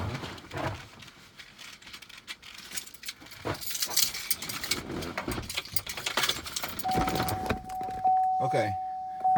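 Keys jangle and rattle as someone shifts in a seat inside a 2017 GMC Sierra pickup, irregular close metallic clinks and rustling throughout, with a steady tone near the end.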